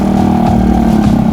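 A motorcycle pushing through a river crossing, its engine a loud, close, steady drone with slight wobbles in pitch as the rider holds the throttle.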